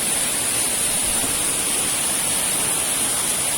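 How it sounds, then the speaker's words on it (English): Broad, steady rushing of the lower waterfall at Excelsior Glen Falls, with water flowing among lingering ice, a constant close wash of white noise with no breaks and no voices. "This is the lower waterfall."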